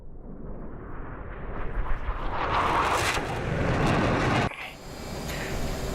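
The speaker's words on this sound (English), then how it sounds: "Let's get a quick flyby going" An F/A-18 jet in the DCS World flight simulator roars past in a flyby, its rising, broad engine rush swelling to a loud peak and then cutting off abruptly, with no talk.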